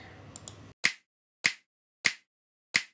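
Crisp sampled finger snaps for an EDM track hit four times at an even, moderate pace, dry and sharp with short decays after a brief tail of other sound at the start.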